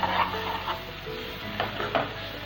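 Garlic and green chili paste being stirred in a pan for Maharashtrian pitla, with soft scraping strokes and a faint steady sizzle close by.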